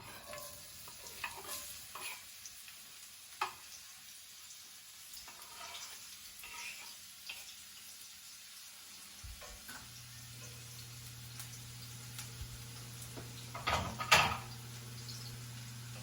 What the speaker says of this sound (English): I'm just going to let that saute for a little while.